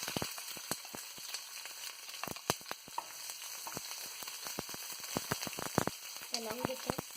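Chopped onion frying in a pan with seeds for mango rice, giving a soft, steady crackle of scattered pops and sizzles, fairly quiet and close.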